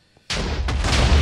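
A missile blowing up in the Minecraft Missile Wars video game: after a brief quiet moment a sudden loud explosion bursts in, followed by a second crack and a sustained rumbling roar of debris that keeps building.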